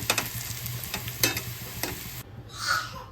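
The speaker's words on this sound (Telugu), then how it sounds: "ఆనియన్స్ అయితే ఫ్రై ఫ్రై అయిపోతున్నాయండి లైట్ బ్రౌన్ కలర్లో ఇంకా ఫ్రై అవ్వాలి" Onions fry toward light brown in a pan with a steady sizzle and several sharp scrape-and-stir clicks. The sizzle cuts off abruptly near the end and leaves a faint tail, with no talk.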